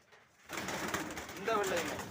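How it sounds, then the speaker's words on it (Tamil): Racing pigeons from a white loft coo softly and close by, their low throaty calls repeating over a steady background hiss. "இதே செட்டில் உள்ள புறா தான்"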